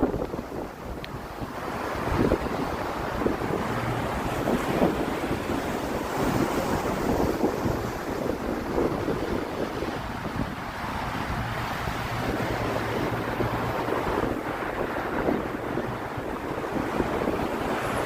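Waves wash against the Chicago lakefront on an October morning, a continuous low surf mixed with gusty wind buffeting the microphone, moderately loud with no voices.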